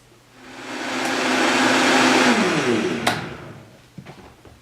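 A kitchen blender whirs through cashew milk, rising to a steady loud roar, then spinning down with a clunk and a few small knocks at the end.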